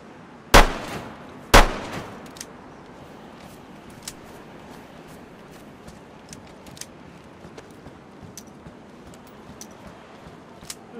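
Two sharp gunshots from a two-barrel handbag pistol in DayZ, fired about a second apart near the start, loud and close, followed by quiet ambience with faint clicks and footsteps.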